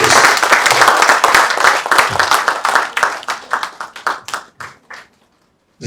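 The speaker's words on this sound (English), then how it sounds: "Can I have a round of applause for him" An audience at a talk on building collapses in Lagos claps for a speaker, a loud close burst of many hands that thins into scattered, uneven claps and fades to silence after about five seconds.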